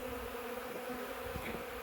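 Honey bees hum in a continuous, steady buzz around an opened hive during an early-March inspection, a soft, dense drone heard close and alone.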